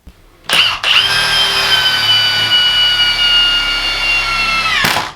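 A Milwaukee M18 Fuel half-inch mid-torque impact wrench with friction ring drives a 3/8-inch bolt with a 19 mm hex head, a loud, close, continuous high-pitched whine with rapid hammering lasting about four seconds after a brief trigger blip.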